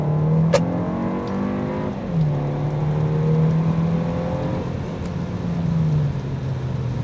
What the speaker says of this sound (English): All right, let's do a quick 0 to 60.